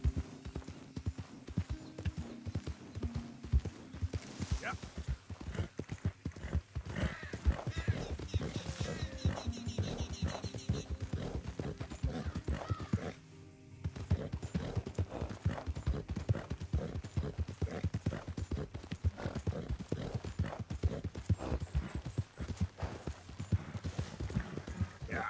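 Hooves of a Missouri Fox Trotter horse in Red Dead Redemption 2 clip-clop in a steady, close, even rhythm, pausing briefly midway before resuming.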